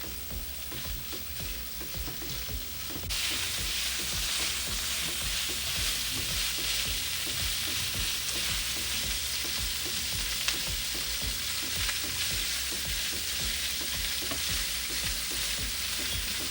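A sautéed topping for Belizean rice and beans frying in a pan, quiet at first, then jumping to a loud, steady sizzle with faint stirring scrapes that continues unbroken up close.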